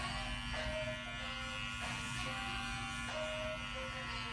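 Electric hair clipper buzzing continuously and up close while cutting hair, with a steady hum and short higher-pitched whines as the blade moves through.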